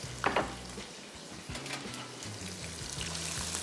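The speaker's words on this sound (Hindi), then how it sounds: "सबसे पहले प्याज शामिल कर दिया, और प्याज की फ्राइंग हो जाएगी शुरू।" Chopped onions sizzle and fry steadily in a hot pan, a close continuous hiss with a brief clatter near the start and low background hum.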